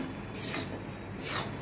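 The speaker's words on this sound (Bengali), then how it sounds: "এইভাবে নাড়াচাড়া করব।" A spoon scrapes and rubs through green chili pickle mixed with fried spices in a pan, two soft swishing strokes close up, with no talking.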